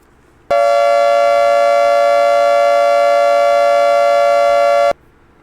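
A loud, steady synthesized siren tone holds one unwavering pitch for about four seconds, starting and cutting off abruptly.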